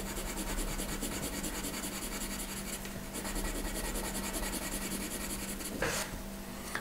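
A violet colored pencil shading on paper, a continuous dry scratchy rubbing close to the mic, steady and even with a brief change in stroke about midway and another near the end.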